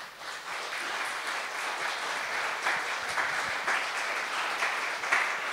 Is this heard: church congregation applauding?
yes